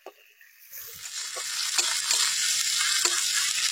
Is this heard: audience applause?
no